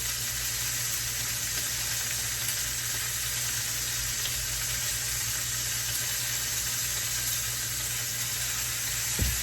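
Chicken pieces fry in a pan for a Marry Me chicken dish, giving a steady, even sizzle that holds at one level throughout, close and without talk, with a low hum underneath.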